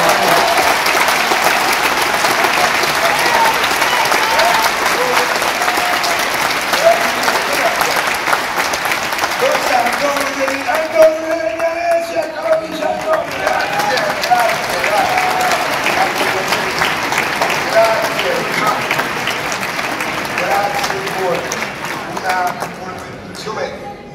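A theatre audience in Milan applauds a stage performance of Natale in casa Cupiello, loud dense clapping that swells and continues throughout, thinning slightly midway, with voices faintly audible within the crowd.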